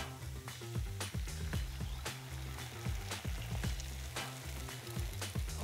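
Egg sizzling and frying in oil on a teppanyaki grill, a steady close crackle broken by regular sharp scraping taps of a spatula as it scrambles.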